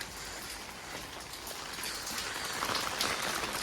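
Rain falls steadily in Italy as a soft, continuous hiss of drops on surfaces, even and unbroken, with no voices.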